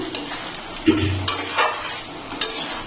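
Mutton curry being stirred and fried in a pan over a medium gas flame, with a few scraping strokes and soft sizzling, close by and moderately loud, no talking.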